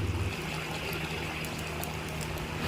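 Katla fish curry with ridge gourd bubbles and simmers in a pan, a steady wet hiss and soft popping throughout, close and without talk.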